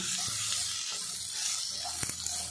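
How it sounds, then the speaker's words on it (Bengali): Ridge gourd pieces fry quietly in a pan, a soft, steady sizzle broken by a few light spatula scrapes and taps as the slices are turned. "স্প্যাচুলার দিয়ে উল্টে পাল্টে ঝিঙেটা আমি একটু ভাজা ভাজা করে নেব।"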